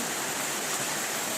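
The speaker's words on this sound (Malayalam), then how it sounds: "നല്ല മഴ പെയ്യുന്നുണ്ട്." Heavy rain pours down as an even, dense roar with no distinct drops or pauses, holding a steady level throughout and no one talking.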